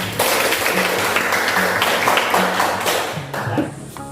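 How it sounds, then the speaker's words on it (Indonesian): A classroom group claps for a student's answer, steady brisk applause from many hands filling the room for several seconds before tapering off, with a faint voice underneath. "berikan aplaus untuk jawaban temannya"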